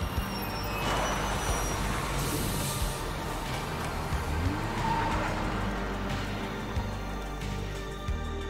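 A bus in the Road 96 video game pulls up and halts, its air brakes hissing over a steady, loud engine rumble that runs throughout with no talking.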